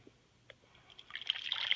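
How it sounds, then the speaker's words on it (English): Hot water is poured into a bowl: a few faint drips, then a trickle that swells into a brighter, louder splashing stream toward the end, heard close up. "I'm going to go ahead and put my hot water into the bowl."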